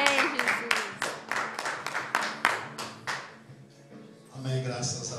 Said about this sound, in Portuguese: Dê um aplauso em nome de Jesus